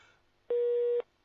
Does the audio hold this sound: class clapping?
no